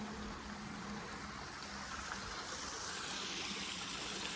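Creek water and many little waterfalls rushing along the Lewis Fork Trail, where the path follows the creek bed on a stretch of the Appalachian Trail, making a loud, steady, broadband roar with no break or pause.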